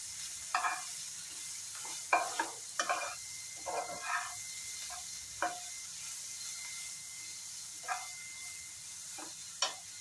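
Maggi noodles stir-fried with cumin powder in a pan make a low sizzle beneath a series of irregular spatula scrapes and clinks, spaced a second or two apart.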